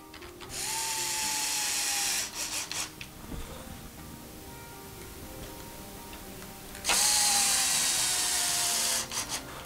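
A power screwdriver whirs in two separate bursts while driving screws in a star pattern on an Arrma 6S RC vehicle, each run rising briefly in pitch, with quiet handling noises between them.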